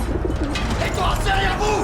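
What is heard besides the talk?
pigeon cooing, in Battlefield 1 animated film from video game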